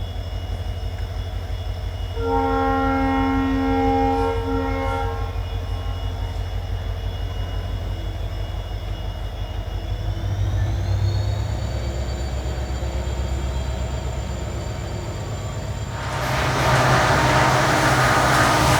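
Mangaluru–Bengaluru express train, a trial run for a future Vande Bharat, running non-stop through Karnataka: a steady close rolling rumble throughout, a long horn blast early on, and a louder rushing surge near the end.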